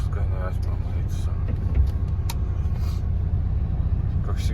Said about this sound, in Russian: Как всегда, битва моторов,